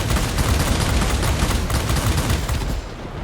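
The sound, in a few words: aircraft cannon fire in video game World of Warplanes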